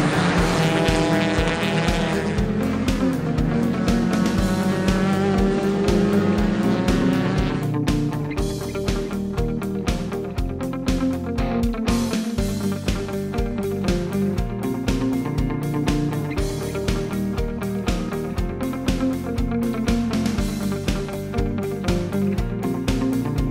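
2016 Mazda MX-5 Miata Global Cup race cars at Laguna Seca raceway, engines revving hard and shifting as they pass, with tires squealing in the corners, loud and continuous for over twenty seconds.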